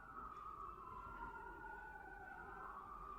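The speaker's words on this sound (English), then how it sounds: "If you can hear the sirens out right now" Faint sirens wail steadily in the distance, a long rising and falling tone over low background rumble.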